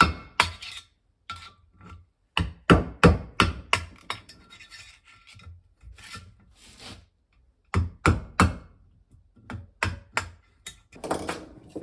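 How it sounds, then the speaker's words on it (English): A hammer drives a tapered punch against old seals in a cheap milling machine's gearbox, giving sharp metallic taps in irregular clusters with scraping between, close and fairly loud. "let's pop these seals out and get the new ones in. Let's see if it works with a hammer here"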